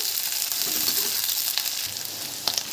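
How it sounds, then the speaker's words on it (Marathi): Onion and chili frying in a hot pan for homemade chicken chilli, a steady loud sizzle that carries on without a break, with a few sharper crackles toward the end and no talking. "आता यामध्येच आपण कांदा मिरची हे टाकूया एक दोन मिनटात फ्राय करायचं"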